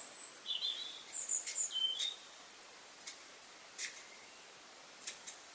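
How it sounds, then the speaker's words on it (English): Scissors cut along a t-shirt hem in a run of quick, faint snips, followed by a few isolated crisp cuts spaced about a second apart in a quiet room. "I'm going to put my scissors in and cut all the way along."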